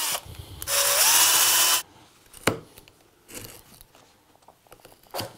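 A power tool bites into wood to cut out a violin pegbox in a short loud whining burst of about a second. Quieter knocks and scraping follow.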